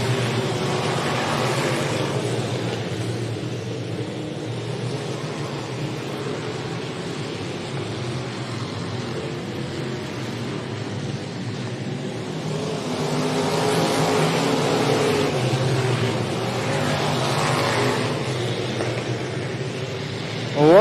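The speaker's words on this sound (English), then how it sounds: "Mike Jackson leads the field as we come back to green one more time in our Dirt Car UMP Street Stock Feature." Dirt Car UMP street stock race cars at Jacksonville Speedway run as a pack on a dirt oval, a steady loud roar of engines swelling and fading as they pass, with a crowd-like wash underneath and faint talk.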